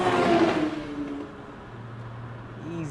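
A BMW fitted with aftermarket paddle shifters drops a gear, its engine note falling from a brief revving rise into a lower, steady drone heard from inside the car.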